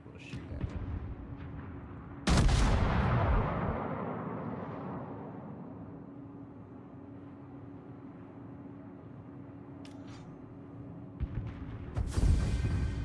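Ship guns fire in a naval video game, one loud boom near the start that rolls away slowly, then a few sharp reports near the end. Low engine hum runs throughout and faint speech sits underneath.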